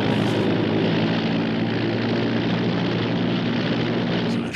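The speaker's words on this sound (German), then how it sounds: "Das ist eine Kuriermaschine." A courier propeller plane drones steadily overhead as it comes in to land, its engine hum loud and continuous with no talk over it.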